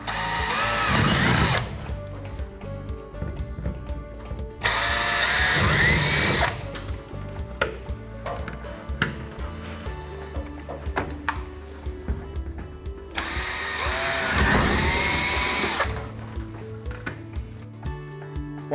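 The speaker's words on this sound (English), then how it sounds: "we're now going to drill a 1/2 inch hole." A power drill whirs loudly in three separate bursts, drilling half-inch holes during an air chute installation, with quieter handling clatter and clicks in the pauses between.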